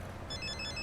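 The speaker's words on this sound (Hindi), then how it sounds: "अरे भद्रा का फोन आ गया।" A telephone rings in a Hindi-dubbed South Indian film scene, its bright repeating electronic tones starting partway through and continuing steadily over a low background hum.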